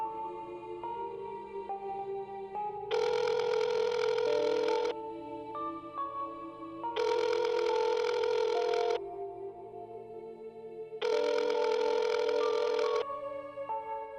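Telephone call connecting: three long bursts of ringing tone, evenly spaced with pauses between them, over steady background music.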